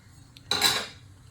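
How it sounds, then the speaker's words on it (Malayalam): A metal frying pan is set down on a stove with a single bright clank that rings briefly and fades, close and alone. "നമുക്കൊരു ചട്ടിയിലേക്ക് ചട്ടി വെക്കാം കടുക് പൊട്ടിക്കാം"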